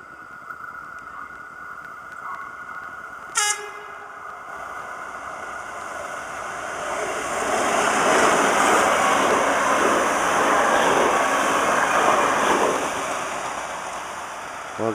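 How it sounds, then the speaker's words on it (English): A Baltimore Light Rail train passes near Robert E. Lee Park, its broad rushing rumble swelling midway, holding loud for several seconds and then easing off, with a brief sharp tone near the start. "A train on the way to the Ravens game tonight."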